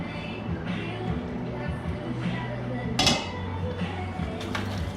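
Sliced prawns dropped into a pot of broth give off metallic clinks and clatters of pot and utensils, with a sharp knock near the middle over a steady low hum.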